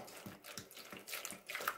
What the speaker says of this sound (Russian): и наливаем нашу воду